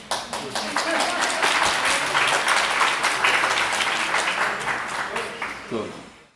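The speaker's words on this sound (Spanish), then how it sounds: "Podemos aplaudir." Audience applause at a lecture on Judaism and business in a synagogue setting, a dense, steady burst of many hands clapping that swells and then fades out near the end.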